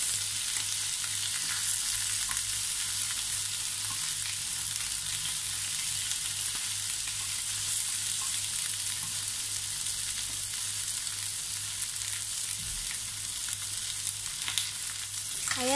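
Chicken wings fry in a little oil in a pan, giving a steady close sizzle and crackle that continues evenly throughout, with no one speaking.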